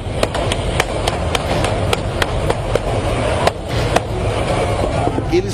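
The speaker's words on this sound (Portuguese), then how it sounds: "Abastece o caixa eletrônico quando o tiroteio começa." A rapid series of sharp, cracking gunshots rings out as guards and armed robbers exchange pistol fire during an ATM cash refill. About a dozen irregular shots ring out over a steady background rumble.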